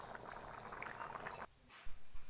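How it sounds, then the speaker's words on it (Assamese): A pot of lobia (black-eyed pea) masala curry boiling after water is added, a steady bubbling simmer for about a second and a half, then quieter with a few soft clinks near the end. "এয়া চাওক কি সুন্দৰকৈ উতলিছে।"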